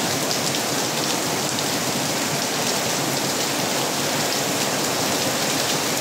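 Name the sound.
very heavy rain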